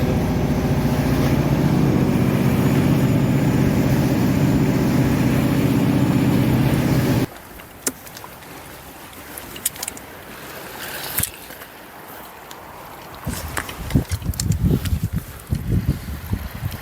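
A fishing boat setting out from Gadeokdo, its engine droning loud and steady at first, then cutting to quieter water sloshing, splashes and rattles for the rest, with no talking.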